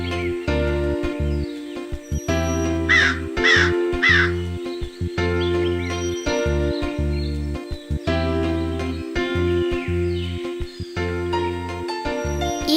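Crows caw repeatedly in a Kannada cartoon, loud harsh calls in quick bursts over a steady musical background score.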